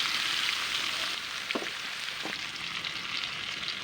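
Onion and garlic fry in a pan for a banana-flower (kola ghonto) dish, giving a steady, close sizzle with a couple of brief stirring scrapes partway through and no voices.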